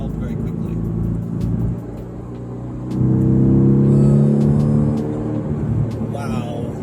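A 2018 Mercedes-Benz AMG GT-R engine rumbles at idle in traffic, then rises in a loud, sustained rev before settling back, with a voice speaking over it.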